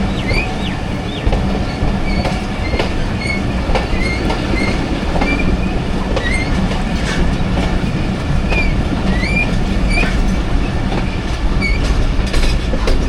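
Jaffar Express passenger train rolling on rails between Attock and Rawalpindi, a loud steady rumble with rhythmic clickety-clack of wheels and occasional thin squeals, continuous throughout with no voices.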